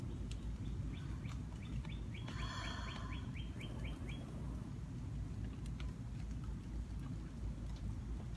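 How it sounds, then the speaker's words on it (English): Steady rain falls outdoors on a summer morning in Sarasota, a continuous hiss that fills the whole clip, with bird chirps and calls rising over it near the start. "Another rainy Saturday."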